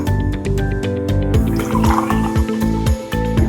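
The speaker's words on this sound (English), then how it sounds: "So I think I'm going to pour it back into my measuring cup so that I can pour it" Very hot water pours into a measuring cup with a steady liquid filling sound, up close, for a craft making eggshell geodes, and a musical backing plays along underneath.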